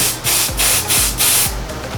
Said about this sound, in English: I just take my hairspray and spray it